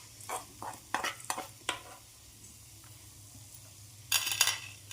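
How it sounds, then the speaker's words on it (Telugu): Dried red chillies frying in a bowl while being stirred, a run of quick scraping strokes over a low sizzle, a quiet pause, then another burst of stirring, close and fairly faint. "ఇవి చల్లారేలోపు ఎండుమిర్చి వేయించుకుందాం"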